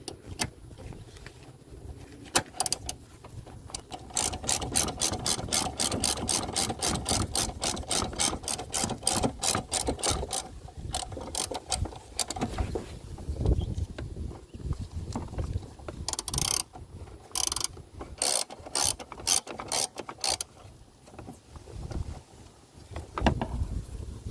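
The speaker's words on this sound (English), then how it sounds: "I have this 10mm bolt that I'm going to put back in. Let's tighten that down." A ratchet tightens a 10mm bolt on a 2013-2016 GMC Acadia during a speed sensor replacement. Rapid, steady clicking comes in two long bursts with a pause between, close and fairly loud, with no talking.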